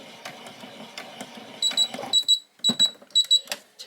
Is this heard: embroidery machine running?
yes